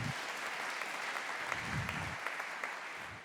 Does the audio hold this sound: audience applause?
yes